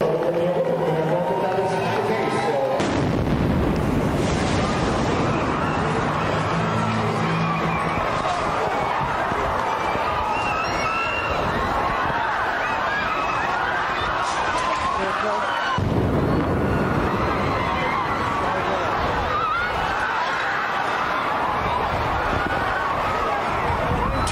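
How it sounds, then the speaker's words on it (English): A sudden loud bomb explosion boom, then a second boom about thirteen seconds later, followed by running footsteps and distant screaming amid constant crowd and wind noise, on Boylston Street during the 2013 Boston Marathon bombing. "You will hear a boom, count 13 seconds, and the second boom, and the running of people around and the screams"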